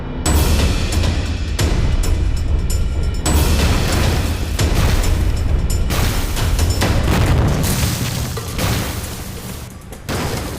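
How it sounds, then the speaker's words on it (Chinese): Artillery cannon fire in a war film about the Sino-Japanese war: loud, continuous booming explosions, one after another, rumble with a heavy low-end roar and sharp bursts throughout. "日本人的大炮打得真猛啊"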